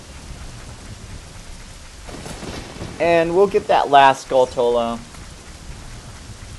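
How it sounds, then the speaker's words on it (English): Steady rain with distant thunder in the village of Kakariko in a Zelda video game, a continuous wash running the whole time, with someone speaking briefly over it near the end. "until you beat Spirit Temple, it is going to be raining in Kikario"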